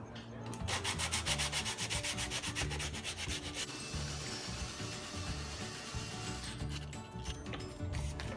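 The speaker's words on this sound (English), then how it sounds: "Before filler, you gotta sand again. You gotta sand a lot here." Steady, close hand sanding of a car iPad dash panel before filler goes on, a continuous raspy scrubbing in quick rhythmic back-and-forth strokes, with a brief lighter pass in the middle.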